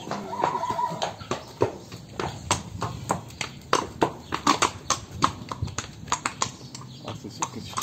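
A horse at a ranch clops its hooves in an irregular, close run of sharp hits, with a neigh early on and faint talk in the background.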